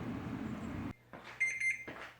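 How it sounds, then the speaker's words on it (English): An electronic timer alarm goes off, set while coats of Plasti Dip dry on a car grille. Short, fairly loud bursts of beeping follow a cut in the background noise. "What I like to call now my Plastidip timer, since I've used it so much, is going off"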